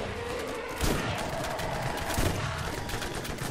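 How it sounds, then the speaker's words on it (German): Machine gun gunfire in the video game Borderlands, a dense continuous rattle of shots with a couple of heavier bursts standing out, loud and steady throughout with no voices. "Maschinengewehr."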